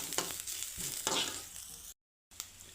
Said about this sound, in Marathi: ते चांगलं भाजून घेऊ.